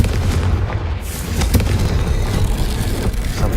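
A Confringo explosion curse blasts in the Hogwarts Legacy video game, a loud, heavy boom with a deep rumbling body that rolls on continuously, with a few sharper cracks layered over it.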